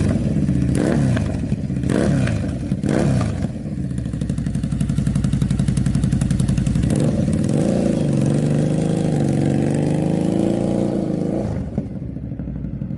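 A motorcycle with four exhausts revs hard, its engine note climbing and falling in repeated throttle blips before settling into a loud, steady, throaty drone that fades near the end.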